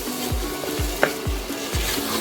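Pointed gourd mash frying in a wok as it dries out, with close rhythmic scrapes of stirring about every half second over a low bubbling sizzle and one small clink partway through.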